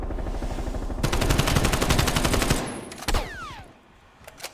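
Video-game automatic gunfire rattles in a rapid, loud burst lasting a couple of seconds, then stops, followed by a few scattered clanks and a faint descending whine.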